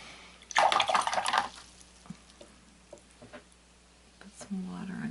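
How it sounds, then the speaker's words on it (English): Water is added to a Zig transparent watercolor palette of 12 colors, wetting the dark violet pan: a short splashing, dribbling burst up close, then quiet with a few faint drips and light handling noises. "Put some water underneath here"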